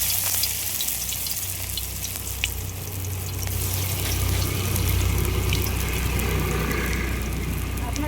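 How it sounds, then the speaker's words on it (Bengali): Fenugreek leaf fritters sizzle and crackle as they fry in hot white oil in a kadai. The busy frying sound is steady and close throughout, with brief clinks and stirring noises. "এবার বড়ার মতো করে এইভাবে ভেজে নেব।"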